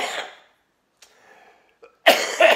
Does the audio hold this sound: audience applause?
no